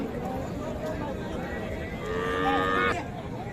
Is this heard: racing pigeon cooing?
no